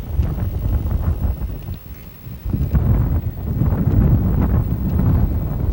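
Gusty wind buffets the microphone at an outdoor women's soccer match between the Chicago Stingers and Indiana Blast in 1997, a steady low rumble that swells and eases throughout, with faint crowd and field noise beneath.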